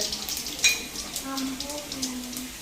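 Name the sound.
mustard seeds and lentils frying in hot oil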